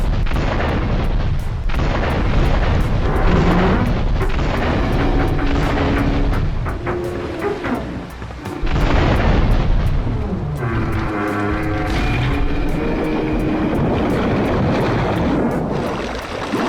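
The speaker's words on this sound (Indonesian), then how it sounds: "kapal pun meledak di berbagai titik lokasi, sehingga berakhir tenggelam dan menyatu dengan perairan di Liberty City" Large ship in GTA 3 blowing up at several points across Liberty City waters, a loud sustained roar of blasts and rumbling debris, continuous and heavy with shifting bursts throughout, no talking.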